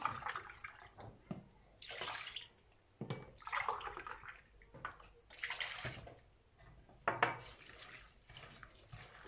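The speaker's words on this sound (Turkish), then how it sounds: "3 su bardağı süt ilave ediyorum." Milk poured from glasses into a bowl of dry pudding mix, in several separate pours, splashing in bursts with short pauses between them, close and fairly quiet.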